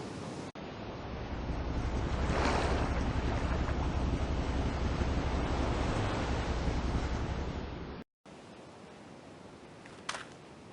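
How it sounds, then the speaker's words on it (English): A sea tractor in the video game Evil under the Sun ploughs through the tide with a steady, rushing wash of water and rumble that swells and holds for several seconds, then cuts off abruptly before a quieter stretch. "High tide, low tide, strong current or no, the tractor, she just plows along, keeping us high and dry."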